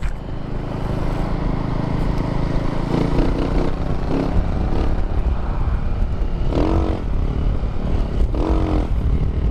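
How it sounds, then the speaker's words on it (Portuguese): Honda CG 150 motorcycle fitted with a Fortuna exhaust and no air filter, its engine running steadily and loud up close with a throaty drone, brief revs and some mechanical clatter, no talk. "Tá com escapamento Fortuna e sem filtro, ficou legalzinho, já dá uma diferença na moto."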